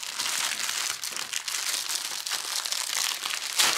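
Crinkly plastic gift packaging of a diamond painting kit being opened, a steady, close, continuous crackling and rustling with no voices.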